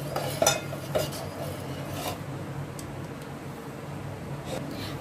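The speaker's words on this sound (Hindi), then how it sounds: "अपने दूध को अच्छे से मिक्स कर देना" A spoon scrapes and clinks against a pan while sugar is stirred into warming milk, a few sharp metallic taps early on followed by steady soft scraping, close and fairly quiet.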